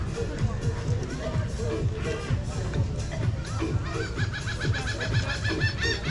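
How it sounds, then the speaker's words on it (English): A large flock of geese honks continuously and loudly at a Grand Bahamas cruise private-destination beach, overlapping calls forming a dense, noisy din with a crowd murmuring underneath. "Ton of birds."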